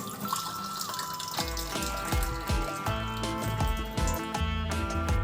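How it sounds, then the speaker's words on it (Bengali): Two mugs of water pour into a cooking pot of potol (pointed gourd) set to boil, a steady splashing stream that is partly masked by louder background music with plucked and melodic tones. "দু মগ জল দিয়ে দিলাম"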